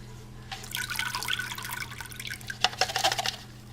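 About three liters of water poured from a mug into a plastic tub, with a splashing, trickling stream and a few louder drips and splashes near the end.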